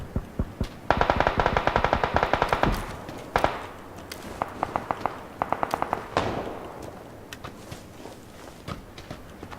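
Gunfire in the battle royale game PUBG: dense bursts of automatic fire and single cracking shots, loud and close, in repeated volleys with short gaps, some faint steps between.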